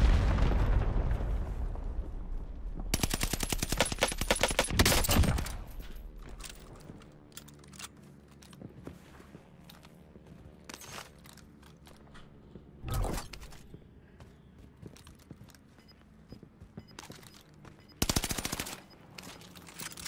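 Rifle gunfire in the video game Warzone, with rapid automatic bursts of several seconds alternating with quieter stretches and short single volleys, loud and close.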